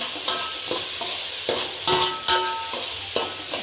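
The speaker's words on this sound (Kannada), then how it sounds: "ಸ್ವಲ್ಪ ಚೆನ್ನಾಗಿ ಫ್ರೈ ಆಗಲಿ" Jilebi fish fries in a pan with a steady, close crackling sizzle and occasional stirring scrapes, with no talking.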